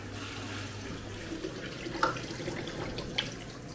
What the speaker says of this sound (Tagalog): Lagyan natin ng konting tubig para mayroon siyang sauce.